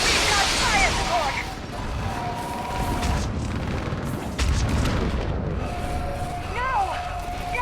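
Artillery fire support pounds from a building during a battle in Mass Effect Legendary Edition, with heavy booms and explosive blasts rolling continuously amid dense combat noise.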